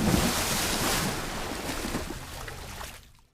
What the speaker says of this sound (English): you'll hear the water effect here